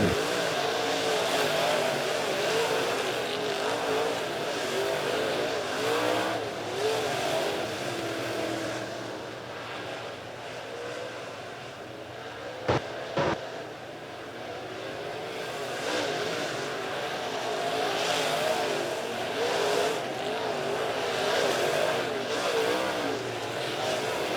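Late model race cars roar around a track after the green flag, engines swelling and fading as the pack passes, with a sharp knock midway and crowd-level ambience beneath a steady loud drone.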